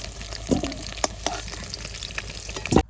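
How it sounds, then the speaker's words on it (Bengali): Bay leaves and whole cumin seeds crackle in hot oil in a home kitchen, a steady close sizzle with a few sharper pops and spatters bursting through, no voices. "তেলের উপর দিয়ে দিচ্ছি তেজপাতা আর গোটা জিরে"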